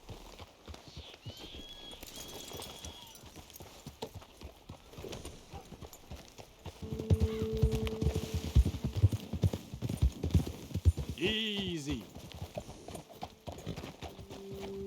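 Horse hooves clip-clop at an easy walking pace in Red Dead Redemption II, growing louder midway, with a brief horse snort and a short spoken word near the start.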